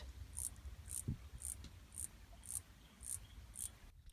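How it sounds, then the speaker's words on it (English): Minor cicada song in a grassland setting, a series of short, high buzzy chirps repeating at an even pace about twice a second, fairly soft and alone. "Just listen back to our minor cicada sound."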